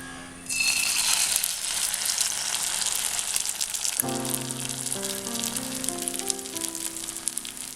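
A loud, hissing sizzle erupts as beaten egg for a potato omelette hits a hot pan and keeps crackling steadily, with faint musical tones joining halfway through.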